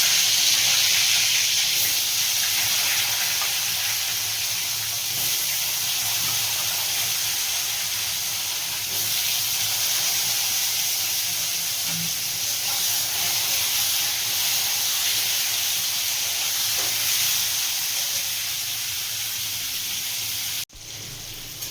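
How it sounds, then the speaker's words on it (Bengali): Pointed gourd pieces coated in salt and turmeric fry in a pan of oil, giving a loud, continuous close hiss and sizzle that holds steady for the whole stretch before a brief cut near the end. "নুন হলুদ মাখানো হয়ে গেছে পটলগুলো এবার আমি ভেজে নেব"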